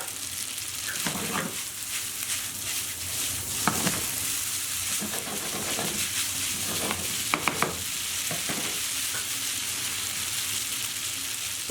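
Spaghetti is tossed and stirred in a hot pan with salt and cracked pepper, giving a steady sizzle broken by repeated scraping and clattering strokes.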